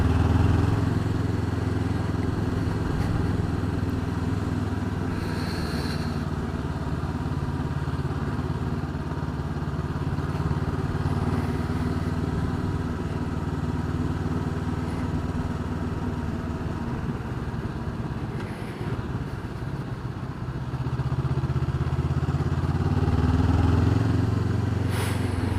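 A Honda CB500X motorcycle's parallel-twin engine runs steadily throughout, a continuous mid-pitched drone with slight rises and dips in revs, heard up close with wind and no talk.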